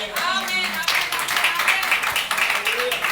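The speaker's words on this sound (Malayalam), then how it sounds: "ഒരു ക്ലാപ്പ് കൊടുത്തേ." A Sunday service congregation claps together, a quick patter of many hands under a preacher's voice that keeps talking over it.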